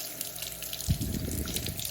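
Tap water runs steadily over ketchup-coated copper pieces and hands being rinsed at a sink. The flow is quiet at first, then surges into a louder, close splashing rush that continues to the end.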